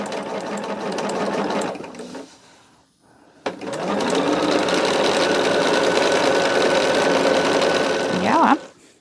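A sewing machine stitches quilt blocks in loud, continuous runs, stopping briefly near the start before whirring steadily again, with a rising whine near the end.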